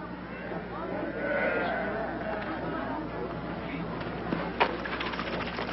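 A flock of sheep bleating in a dramatised anthrax inoculation scene, their calls mixed into a busy crowd murmur of voices and chatter, with a brief sharp knock near the end.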